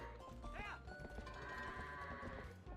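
Goats bleat from the game Zelda: Twilight Princess, a short wavering cry rising over a busy bed of game sound and soft music, with a speaking voice underneath.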